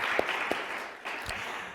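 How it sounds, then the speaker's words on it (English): Audience applause for a speaker's grandmother at an overdose prevention and response event, a fairly steady wash of clapping with a few louder individual claps standing out, lasting under two seconds. "maybe we give a round of applause for my Nana out here."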